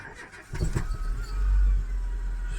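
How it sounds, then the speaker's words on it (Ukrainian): A 2012 Dacia Logan 1.6 petrol/gas car engine starting: a short crank at about half a second, then the engine catches and settles into a steady low idle, close and fairly loud. "Все, машина завелась."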